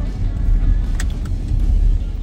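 A car's engine and road rumble carry steadily and up close from inside the cabin while it drives on a road, a continuous low drone with no talking.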